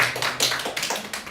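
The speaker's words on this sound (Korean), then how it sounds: "오늘 이 예배를 받으신 하나님께 영광의 박수 올려드립니다" A children's church worship service gives a short, rhythmic burst of group applause, with quick, evenly spaced claps that stay close and loud for just over a second.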